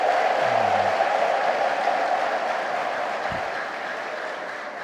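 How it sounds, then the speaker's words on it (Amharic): Worshippers at an Ethiopian church homily applaud, a broad, even wash of clapping that starts loud and fades gradually, with a brief voice near the start. "ካላችሁ ለራሳችሁ አጨብጭቡ።"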